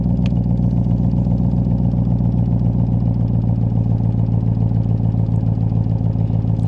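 Deep, steady rumble of a Coyote V8 idling in a 1965 Backdraft Racing Cobra replica, loud and close with an even throbbing pulse throughout, no talk heard.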